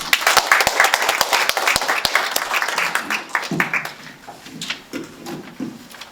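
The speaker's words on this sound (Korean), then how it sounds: "다시 한번 박수 부탁드리겠습니다" An audience claps after a presentation at a youth symposium, starting as dense, loud applause that thins out into scattered claps over about six seconds, with faint murmuring toward the end.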